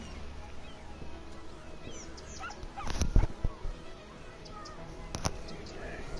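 A sick dog whimpering and whining indoors with thin high yips and a couple of sharp louder cries, intermittent over a quiet room background.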